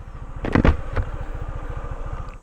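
Motorcycle engine idling near a view deck at Mapita, Aguilar, Pangasinan, with a steady low pulsing putter and a brief louder rev burst near the start, close and fairly loud throughout.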